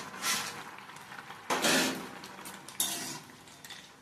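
A spoon scrapes and knocks around a pan of potato and red amaranth curry with fried lentil dumplings, a few quiet clattering strokes spaced irregularly, close up and otherwise quiet.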